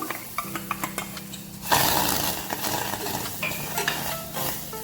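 Jackfruit juice heating in a pot on a gas stove, a steady close simmering hiss with faint clinks and stirring scrapes, rising louder midway, no voices.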